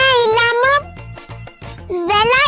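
A cat meows loudly and close by, with a drawn-out meow at the start and another at the end, and softer, broken sounds in between.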